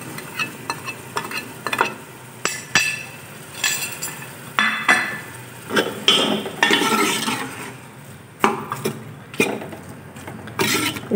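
Dried red chillies roasting in a pan with dried coriander and garlic at a village dhaba, sizzling steadily while a metal spoon stirs and scrapes in repeated clinking bursts, close and clear with no talk.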